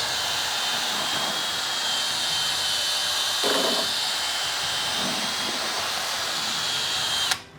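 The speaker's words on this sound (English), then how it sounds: "give it a good blitz. Paint mixer makes a real good job of that." Paint mixer on a drill whirring steadily through grain in a home brew mash, a continuous loud buzzing drone that cuts off abruptly at the end.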